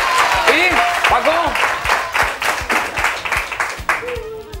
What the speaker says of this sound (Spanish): Un aplauso para él, amigos.